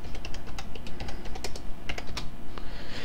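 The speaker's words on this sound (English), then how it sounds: "Put the right password in." Steady clicking of keys on a computer keyboard as a password is typed, a quick, slightly uneven run of taps close to the mic with no speech over it.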